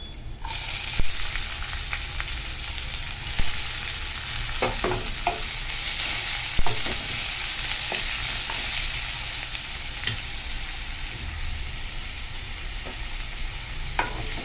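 Onions sizzle steadily in a hot pan for a South Indian black urad dal, with occasional clanks and scrapes of a spoon stirring them, close up and with no talk.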